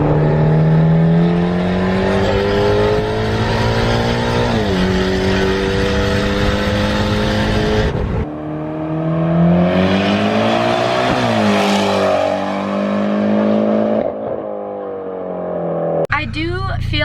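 A straight-piped Mitsubishi Evo 10 with an open dump downpipe and test pipe drones loudly from up close, its exhaust rising and falling in pitch as it revs, shifts and cruises, with a brief sharp cut near the end.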